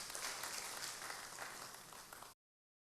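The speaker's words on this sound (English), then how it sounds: "Give him a round of applause." An audience in a teaching session applauds together, a dense, fairly faint burst of clapping that holds steady for about two seconds and then cuts off abruptly.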